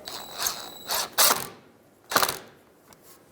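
Ratchet with an 8mm socket tightening a hose clamp during radiator cooling fan replacement on a 2004-2009 Subaru Outback, a few short close clicking bursts separated by pauses, no talk.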